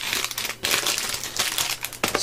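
Stiff heavyweight kraft-paper money envelopes are handled up close, giving loud, continuous crinkling and rustling in several bursts with brief pauses between them.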